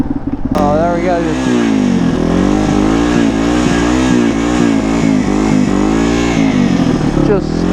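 A vehicle does a burnout on a snowy, icy bridge, its engine revving hard in a loud, sustained wavering roar that rises and falls in pitch for several seconds before easing off.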